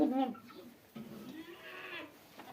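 A goat bleats loudly and close at the start on a farm during morning feeding, followed by fainter bleats and farmyard noise while a person talks.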